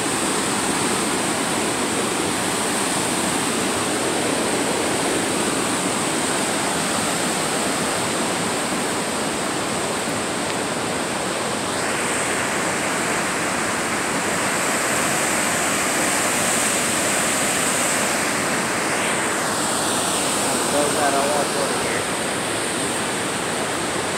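Rushing water of the Bridge River roars in a steady, dense wash, close and loud and unbroken throughout, with no voices over it.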